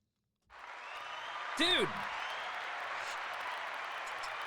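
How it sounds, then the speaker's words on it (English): A canned applause sound effect from a clap button on a haunted-attraction podcast: a steady wash of crowd clapping that starts abruptly and holds evenly, with a brief spoken word and a whoop over it. "Where's your clap button, Steve?"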